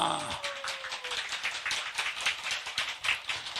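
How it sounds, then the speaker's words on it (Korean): A congregation clapping with energy at a religious gathering, rapid and steady hand claps from many people at moderate loudness, with a voice trailing off at the very start. "이럴 때는 에너지를 많이 넣어서 박수를 많이 치세요."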